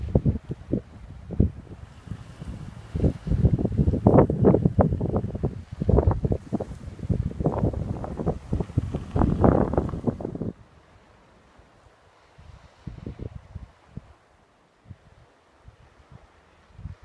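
Gusty wind buffets the microphone on a hilltop overlooking the bay at Cala Sant Vicenc, Mallorca, in loud, irregular rushes for about ten seconds before easing to faint, sporadic gusts.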